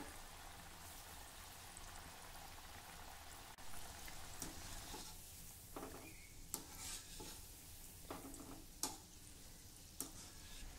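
Sweet shankarpali pieces fry in hot oil with a continuous soft sizzle, broken by several sharp clicks and scrapes of a utensil stirring them in the pan.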